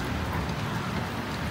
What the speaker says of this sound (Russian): У нас уже который день идет дождь.